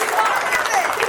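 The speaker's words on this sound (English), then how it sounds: "give them a big round of applause" Audience at a school board meeting applauds nervous students, a brief dense burst of clapping at moderate loudness with a few voices mixed faintly in the crowd.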